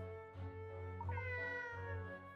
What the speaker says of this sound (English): Oh, a little cat.